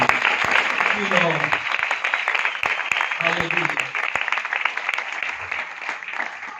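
A church congregation claps during an Urdu/Hindi sermon, dense irregular applause close and fairly loud, mixed with voices and cheering throughout, fading slightly toward the end.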